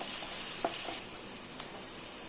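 Grated garlic and two slit green chillies sauté in oil with a bright, constant hiss. It is louder for the first second, then settles into a softer sizzle with a few faint spoon taps.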